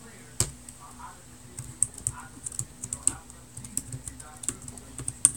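Fast, irregular typing on a compact keyboard attached to an Acer Iconia One 10 tablet used as a netbook, with crisp close key clicks in quick bursts over a quiet room hum and faint murmured speech.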